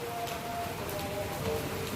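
Steady rain falls in an even, continuous hiss with no clear breaks, fairly close and moderately loud.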